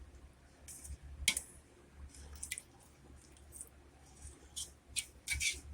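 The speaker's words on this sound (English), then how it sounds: "And one more stir." A spoon stirs a pot of pork chile verde, making soft, wet squishing and scraping sounds in short irregular bursts at close range, with no talk.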